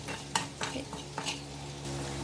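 A spoon scrapes and stirs bansi rava semolina in a small pan, with a few sharp clinks against the metal over a low steady hum, warming the semolina before making vegetable upma.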